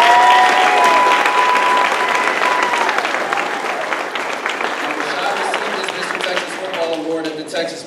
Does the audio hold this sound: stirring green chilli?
no